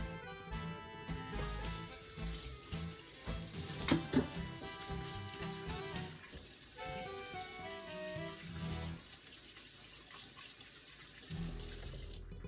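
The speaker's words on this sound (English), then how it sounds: "we need to remember, everybody, to wash our hands" Hands washed under a running kitchen sink tap, the water flowing steadily and fairly quietly beneath background music.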